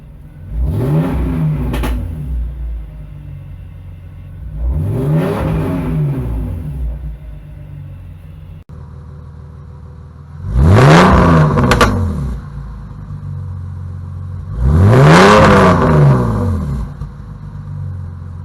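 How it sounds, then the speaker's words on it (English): A loud BMW E46 engine with the muffler removed revs four times in separate bursts, each a deep, raspy roar rising and falling over a steady idle rumble, with no voices. "Let's rev it up a little bit."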